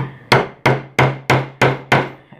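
Hammer striking during leather knife sheath work, six sharp, loud blows at an even, measured pace, each ringing briefly before the next, close up with no talk.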